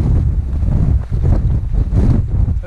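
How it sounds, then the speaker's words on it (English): Strong wind buffets the microphone on a mountain ridge gap in Wales, in gusty, roaring bursts, a loud rough rumble with brief dips between gusts. "It's quite a windy part of this."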